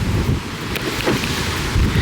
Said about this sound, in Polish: ale jest ciepły wiatr z jakiejś Sahary